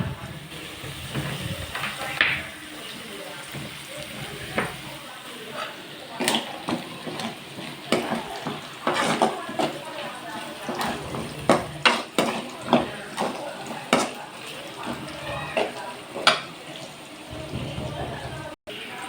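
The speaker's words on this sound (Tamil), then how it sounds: "இப்போ வெங்காயம் நல்லா வதங்கிட்டுருக்கு." Onions and crushed garlic sautéing in a pan for a dried-fish kuzhambu, a steady soft sizzle broken by frequent sharp clinks and scrapes of a utensil against the pan, close by, with a voice speaking over parts of it.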